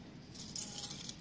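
Keys jangling faintly and briefly in a city while searching for the right key during geocaching, a soft metallic clinking with a few bright jingles, alone without speech.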